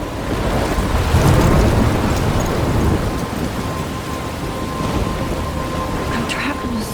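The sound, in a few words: thunderstorm with rain in Life is Strange video game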